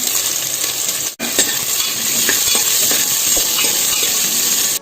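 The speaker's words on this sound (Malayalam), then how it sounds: "ഇനി ഇതിലേക്ക് ഒരു അഞ്ച് ചെറിയ ഉള്ളി ചെറുതായിട്ട് അരിഞ്ഞതാണ് അത് ചേർത്ത് കൊടുക്കാം" Chopped small onions land in a pan of frying coconut pieces, a loud, steady crackling sizzle with one brief clatter and a short dip, then continuous bubbling hiss up close.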